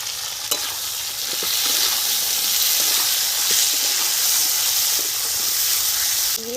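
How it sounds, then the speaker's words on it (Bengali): Potatoes frying in oil in a village-style kitchen, with steady loud sizzling and hissing, occasional scraping clicks of a spatula stirring, and a sharper clatter near the end as tomato goes into the pan. "আলু তেলের মধ্যে দু মিনিট নেড়ে নিলাম এখন দিয়ে দিচ্ছি টমেটো"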